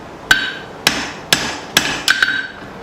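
A hammer strikes a hot Bowie knife blade on an anvil with bright metallic rings, six blows in a loosely even rhythm, the last two close together, each ringing briefly before the next.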